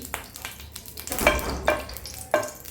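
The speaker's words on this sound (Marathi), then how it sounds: "पॅन गरम करायला ठेवलेला आहे त्याच्यामध्ये आपण टाकणार आहोत दोन चमचे तूप हे जसं तूप मेल्ट व्हायला लागेल" Two spoons of ghee melting in a hot pan over a low flame while sesame-jaggery laddoos are prepared, giving a soft frying sizzle with a few brief scraping or stirring touches, close and moderately quiet, with no talking.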